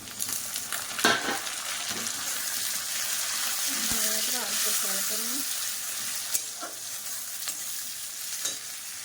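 Tomato goes into a hot pan and fries with a steady close sizzle and occasional stirring scrapes, while a voice speaks briefly in the middle.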